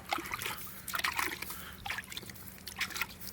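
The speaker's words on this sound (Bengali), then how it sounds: "অল্প অল্প করে ছিটাই দিব" Salt water sprinkled by hand onto straw fodder for cattle at a hill-region farm, heard as faint, soft irregular splashes and patters, quiet and close, with no talking.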